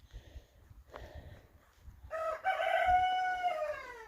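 A rooster crows loudly and fairly close, a long drawn-out call after a few soft clucks and quieter sounds in the yard.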